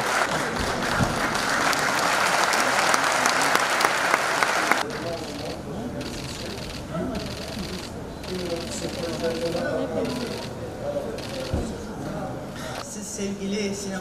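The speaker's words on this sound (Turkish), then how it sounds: "Alkışlarınız Selma Güneri'ye." Crowd applause at the Malatya Film Festival honouring actress Selma Güneri, loud and dense for the first few seconds, then dropping to softer clapping mixed with voices and hall murmur.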